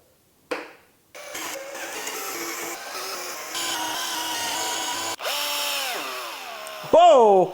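An electric drill straining while cutting a door part, its motor whining in stops and starts, then running steadily before the pitch wavers and sags as it burns out, smoking, and dies, close and loud.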